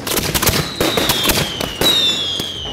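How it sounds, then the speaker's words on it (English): Three-inch firework mortars fire at a ski resort in Thredbo, Australia, a rapid loud string of sharp bangs and crackles with whistling streaks, no talk. "On the Saturday night, we'd probably let off about 28 3-inch mortars."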